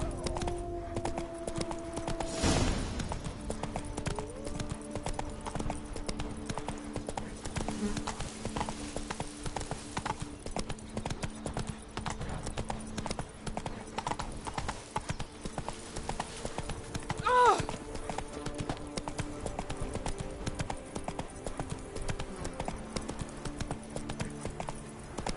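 Horse hooves galloping in The Witcher 3 in a steady, continuous clip-clop rhythm over game music, with a brief louder burst early on.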